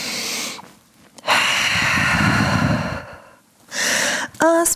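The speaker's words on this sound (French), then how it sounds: "Grande respiration en chien tête en bas." Deep, drawn-out breaths taken while holding a downward dog yoga pose: a long heavy exhale stretched over about two seconds, framed by shorter inhales, close and unaccompanied.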